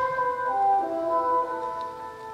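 The opening of Stravinsky's The Rite of Spring: a lone, sustained woodwind melody bends and winds gently over quiet orchestral background, with no talking.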